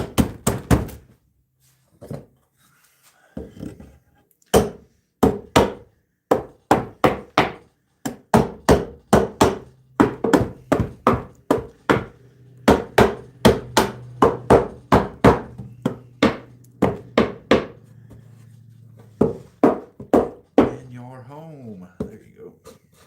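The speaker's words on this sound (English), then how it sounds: "you need a little hammer, dude?" A child taps a small hammer on redwood planter boards, making many sharp wooden knocks in uneven bursts and clusters, close and loud, with a low hum partway through.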